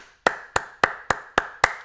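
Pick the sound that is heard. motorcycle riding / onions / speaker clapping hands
speaker clapping hands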